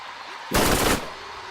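Gunfire in the Borderlands video game, during a Lilith Underdome arena fight: a loud half-second burst of rapid automatic shots that stops abruptly, with no voices.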